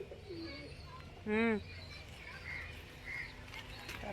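Pigeons at home give a short cooing call midway, fairly close and clear over a quiet background hum, with faint chirps and a distant bird note around it.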